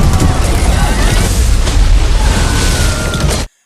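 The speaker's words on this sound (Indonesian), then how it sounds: "Jonas membuat 3 ledakan untuk itu" A film explosion from Meg 2, set around an island under attack by a giant octopus and megalodons: a loud, dense booming rumble that fills the clip, with possible voices mixed in, then cuts off abruptly.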